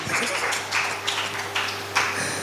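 An audience at a church sermon claps together in short rhythmic bursts, several waves of hand claps close and fairly loud in a hall.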